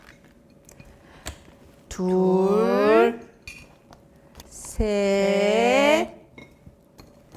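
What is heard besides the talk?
frozen dumplings placed into a bowl with tongs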